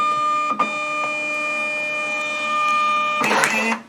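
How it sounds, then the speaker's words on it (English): A SafetyPro Evo label printer prints a test label, producing a steady whining electronic tone with faint clicks, then a louder rattling feed burst near the end. "So let's just print off the label."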